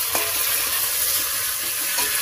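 Green and dried chillies stirred lightly in hot oil in a village kitchen, a constant close sizzle with a couple of soft utensil scrapes.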